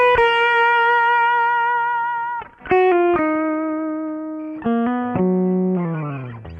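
Distorted electric guitar through a direct amplifier signal, playing sustained notes and bends, dry and close with no room echo, several held tones changing pitch.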